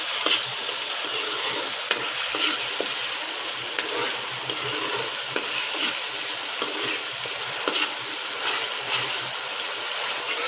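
Masala browning in a pan for sarson ka saag, a dense continuous sizzle with frequent light stirring scrapes, close and steady, without any voices.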